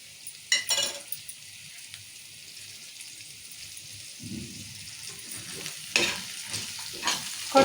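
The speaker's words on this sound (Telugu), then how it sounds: "ఒకసారి కలుపుకుందాం." A lamb brain fry with coriander and mint is stirred in oil, giving a soft sizzle under scattered scraping clinks of the spoon against the pan, close and fairly quiet with no voices.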